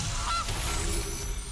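A goose honk sound effect from the Magic: The Gathering Arena video game, a short nasal honk over dense game background noise.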